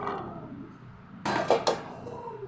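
Cashew nuts dropped into melted ghee in a pan while making sakkarai pongal give a few close metallic clinks and a short rattling burst over a faint background hiss.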